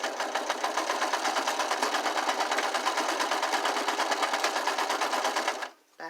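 Rapid, even stitching of a sewing machine backstitching a curtain hem, a close steady mechanical clatter running for several seconds before stopping abruptly.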